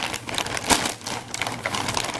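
Plastic packaging around a Webkinz Hoppy Floppy bunny plush being torn open by hand, a close, steady crinkling rustle with one sharper rip partway through and no talking.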